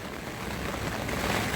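Rain and gusting wind at a lake during spring carp fishing, a steady dense hiss of falling rain with rushing wind, fairly loud and continuous with no speech.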